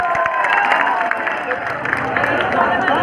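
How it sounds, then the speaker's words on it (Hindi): Audience applauding and cheering at a gym bodybuilding show in Sahawar, a dense, steady crowd noise with clapping and loud hubbub running unbroken throughout. "इनके लिए जोरदार तालियां हो जाए"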